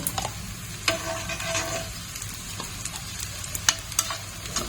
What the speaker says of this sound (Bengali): এই যে এইভাবে কিনার একদম সাইড করে করে একটু তুমি ঘি দিয়ে দেবে